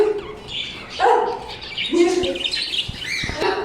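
Canaries in a wholesale bird shop give bright chirps and short tweets in scattered bursts, close by, with a few thumps and faint background noise.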